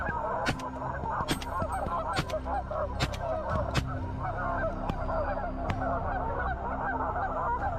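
A flock of geese honks continuously as the birds come down to land, a dense overlapping chorus of calls with sharp loud honks cutting through, fairly close and with no talking.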